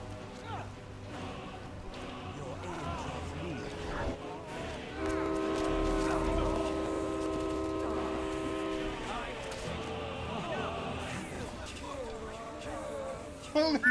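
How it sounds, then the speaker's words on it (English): A fire-breathing train in a modded Skyrim game blasts a long chorded horn-like whistle over rumbling, crackling game effects, loud for several seconds before fading back into busy background noise. "A train is now breathing fire."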